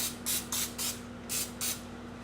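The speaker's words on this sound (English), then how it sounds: "lightly spraying the pizza pan with a little bit of this cooking spray" Five short hissing bursts of cooking spray onto a pizza pan come in quick succession, close and distinct, over a faint steady hum.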